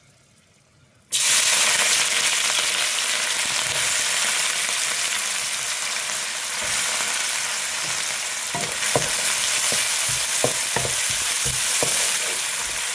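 Onions drop into hot oil in a pan for a Tamil home-cooked dish, setting off a loud, constant sizzle that runs on, with scraping stirs and light clacks toward the end and no voice.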